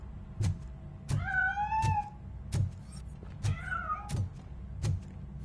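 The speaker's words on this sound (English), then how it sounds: "That cat must be hiding inside." A cat in a video game gives two drawn-out meows over a steady rhythm of soft, regular thumps, like footsteps or knocks, with no talking.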